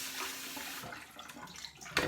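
Tap water running into a shaving bowl, a steady close hiss of flow that fades to softer splashing and trickling, ending with a brief splash.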